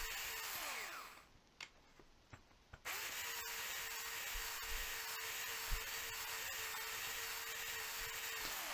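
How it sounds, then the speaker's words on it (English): A belt sander smoothing saw marks off wooden bar-clamp bars for a wooden pot, a steady close abrasive whir that dips briefly near the start, then runs on continuously with faint knocks of the wood. "take out the saw marks with the belt sander"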